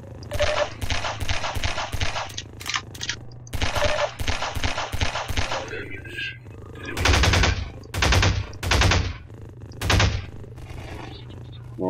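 A pistol in the video game Prospekt fires in fast, loud bursts of rapid shots, several clusters separated by short pauses, with single heavier reports near the end over a steady low hum.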